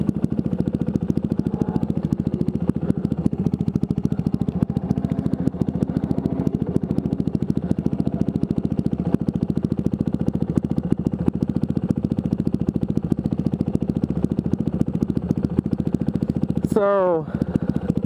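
A WR450X motorcycle engine runs loud and close with a rapid, steady throbbing pulse that lasts throughout, and a brief voice is heard near the end.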